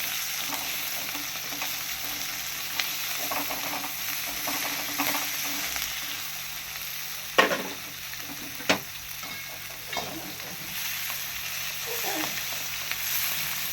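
Coconut pieces and green chillies fry in a pan, giving a soft, continuous sizzle with a few sharp stirring clicks and scrapes in the middle.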